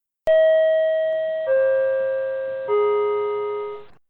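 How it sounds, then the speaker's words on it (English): Three descending electronic subway chime tones ring out one after another, each a clear bell-like note that lingers and fades, loud and close with nothing else around. "Subway chimes, go!"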